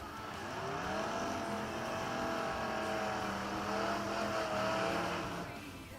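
At a drag strip, a Chevrolet S10 and a 1974 Plymouth Duster launch, their engines screaming through rising revs in a sustained, loud, somewhat distant roar that swells and eases over several seconds.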